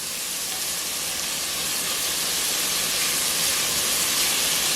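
Onions cooking in a pot as the base for clam chowder give a steady, loud, hissing sizzle that holds evenly from start to finish, close by with no talking.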